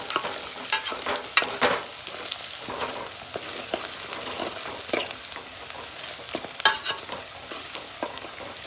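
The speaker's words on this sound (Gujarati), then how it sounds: "વઘાણી નાખી દઈએ તો હલાવી નાખીએ." Onions and tempering spices sizzle and fry in a pan while a spoon stirs them, giving steady crackling with sharper scraping clatters at irregular intervals, close and moderately loud with no talk.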